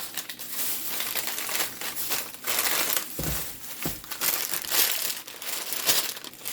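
Plastic freezer bags crinkle and crush in bursts while food is packed into them for a family vacation, a steady close rustling with a few sharper pops.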